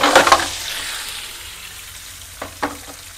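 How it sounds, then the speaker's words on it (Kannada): Okra pieces fry in hot oil, opening with a burst of crackling sizzle that settles into a soft, steady hiss, with a couple of brief stirring clatters near the end, close up. "ಈ ಥರ ಒಂದೇ ಸಲ ಫ್ರೈ ಮಾಡಿ"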